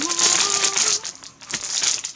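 Foil Pokemon card packs crinkle and crackle steadily as they are torn open by hand, close up and continuous, with brief pauses between the crinkles.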